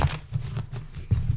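A deck of cards being shuffled by hand for a reading, a short close riffle of soft rapid flutters and taps lasting just over a second, with no talking.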